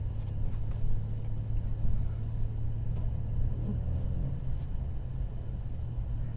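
A 2018 Mercedes-Benz E300 4MATIC drives through snow in eco mode, heard as a steady low engine and road rumble from inside the cabin with no distinct peaks.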